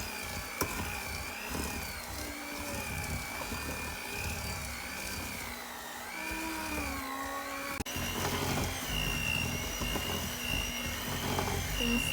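Butter and sugar are mixed for a sponge cake with an electric mixer, a steady whining motor hum that shifts pitch as it works, running close and continuous throughout.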